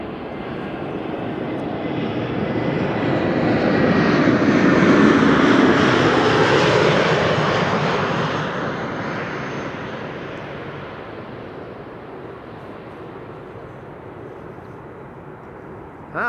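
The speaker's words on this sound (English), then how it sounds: "Next up is an A320neo from Iberia." An Iberia Airbus A320neo arrives at Amsterdam Schiphol from Madrid, its jet roar swelling loud as it passes close overhead, peaking midway and then fading to a steady distant rumble, with no voices.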